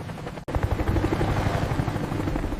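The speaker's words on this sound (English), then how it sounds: "The helicopter became the icon of the American war" A military helicopter from the American war in Vietnam, its rotor thumping in a steady, loud, rhythmic beat that runs without a break after a brief cut near the start, with no talking.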